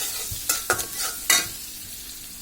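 Onions fry in a pan for a pangas fish curry, giving a soft steady sizzle broken by three or four short scraping stirs, close and fairly quiet.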